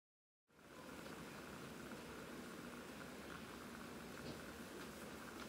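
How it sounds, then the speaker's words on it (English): A solution in a flask boils steadily on a hot plate, a soft continuous hiss and bubbling that starts abruptly and holds at an even, faint level. "my solution has now come to a boil"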